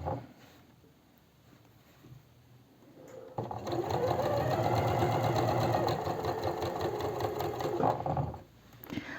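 Sewing machine stitching a summer dress, starting after a quiet stretch with a steady fast mechanical whir and rapid needle chatter for several seconds, then stopping abruptly.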